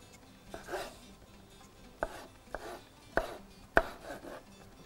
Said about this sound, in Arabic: بس اقطع الطماطميات دول